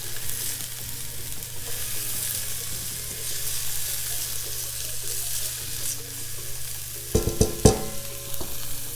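Half a cup of finely chopped onions sizzles steadily in a tablespoon of olive oil in a skillet, a continuous close frying hiss with a few sharper clanks of stirring near the end.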